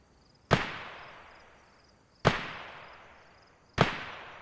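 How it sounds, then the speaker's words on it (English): Three separate semi-automatic rifle shots in the video game DayZ on Deer Isle, each a sharp crack with a fading echo, spaced over a second apart. "That's a semi-auto."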